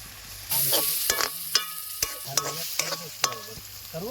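Turmeric and spices with chopped chilies fry in hot oil for a Kathiyawadi stuffed papad curry gravy, a bright close sizzle punctuated by repeated sharp clinks of a spoon stirring against the pan.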